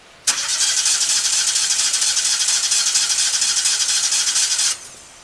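A Lincoln Ranger 250 GXT engine-drive welder cranks and catches almost at once, then runs at a steady, loud, even roar for about four seconds before cutting off abruptly. No voices are heard.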